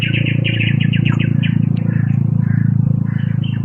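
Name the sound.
crow calling in a video game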